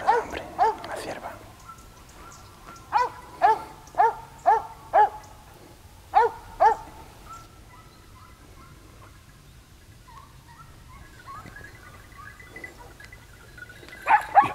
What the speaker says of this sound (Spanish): No, están los perros muy cerca.